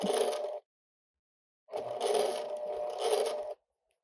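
A sewing machine stitches a quilt block seam at a scant quarter inch, giving two short whirring bursts of rapid needle motion separated by a pause of silence, close and fairly quiet, with no voice.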